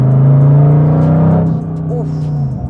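A McLaren SLR HDK's engine revs with a loud, steady droning note that drops and settles lower partway through, heard up close.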